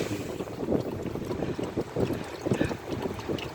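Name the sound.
wind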